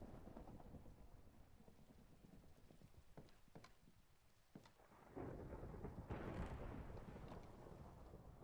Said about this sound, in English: Oh, huh, thunderstorm.